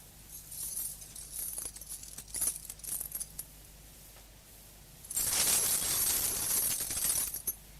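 Keys jangle and rattle by a broken window pane as a radio play sound effect, first a few light metallic clinks, then a dense, loud bright jangling that lasts about two seconds before stopping.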